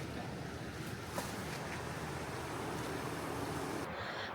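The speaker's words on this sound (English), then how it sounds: "It's right down next to the river." The Lochsa River rushes right beside a campsite in a steady, close, unbroken roar of flowing water that fills the whole stretch.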